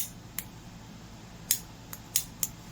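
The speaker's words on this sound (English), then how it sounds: "We also have a little piezoelectric clicker type igniter." The piezoelectric clicker igniter on a BlueFire Pro Mini MAPP gas pen torch, five sharp isolated clicks spaced irregularly and heard close up against a quiet room.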